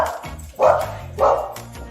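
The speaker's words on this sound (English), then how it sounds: "We've got our 3 dogs with us too, so there's a chance they may make an appearance as well." Two loud, close dog barks sound in quick succession, each a sharp burst about half a second apart, with a speaking voice also present.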